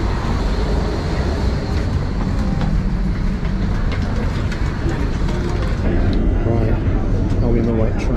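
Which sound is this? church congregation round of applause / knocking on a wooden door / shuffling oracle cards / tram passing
tram passing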